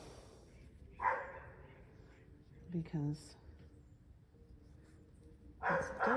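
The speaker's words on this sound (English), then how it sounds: "sorry about the dog" A neighbour's untrained dog barks in a few short bursts somewhere nearby, heard under someone talking indoors.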